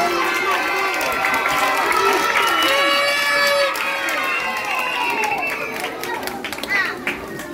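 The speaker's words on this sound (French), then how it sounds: "Applaudissez très fort" A school proclamation crowd applauding and cheering, a busy wash of claps beneath loud overlapping voices, chatter and excited shouts that fade somewhat toward the end.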